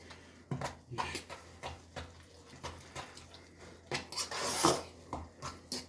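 Egg spread with black pepper being mixed in a bowl: a spoon scrapes and clinks against the dish in a steady, irregular rhythm of short knocks, close and fairly quiet, with no talking.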